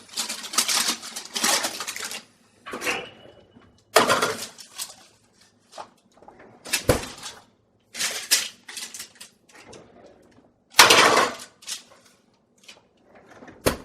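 Cookie tray slid into a preheated 325-degree home oven, with its door opening and closing: a series of metallic clanks, scrapes and thumps in separate bursts, close and fairly loud, with quiet gaps between them.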